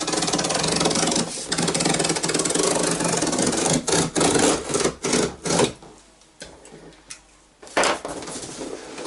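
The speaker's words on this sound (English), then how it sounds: "take my trusty blade, cut down here" A cardboard shipping box is cut and scored with a blade, giving close, loud rasping and tearing strokes that break into several short bursts near the end.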